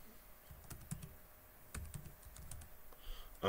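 Keys tapped on a computer keyboard while trying out the KDE Plasma 5 Linux desktop, a loose run of light clicks and taps at moderate distance with no talking.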